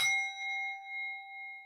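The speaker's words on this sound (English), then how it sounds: "Listen out for the bell." A bell struck once with a wooden porridge stirring stick gives a clear, bright ding that rings on as a steady, pure tone, gently pulsing as it slowly fades in a quiet room.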